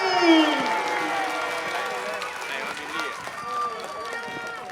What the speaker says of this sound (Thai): ขอเสียงปรบมือให้กับ วันอยู่บำรุง